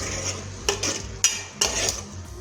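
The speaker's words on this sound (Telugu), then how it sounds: "ఒకసారి కలబెట్టండి." A spoon scrapes and clinks against a metal pot while onion curry is stirred, with four or five sharp metallic knocks at an uneven rhythm over a low, quiet background.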